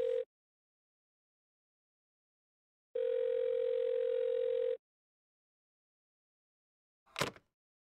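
Telephone ringback tone in a video game call that goes unanswered: a short burst at the start, then a steady tone lasting about two seconds after a pause, and a brief click near the end, with no talk.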